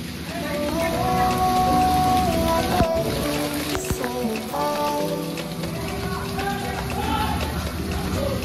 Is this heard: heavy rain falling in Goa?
yes